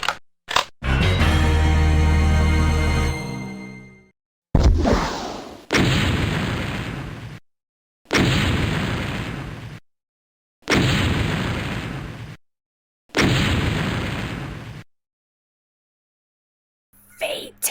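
On the NES game Wrath of the Black Manta, a burst of rising electronic noise gives way to a run of five loud, crunchy 8-bit explosion blasts, each cut off by a short silence.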